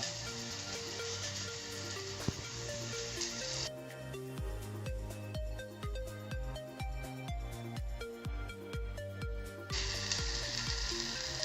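Fish fries in oil in a pan with a steady broadband sizzle, strongest at the start and end, heard under continuous background music.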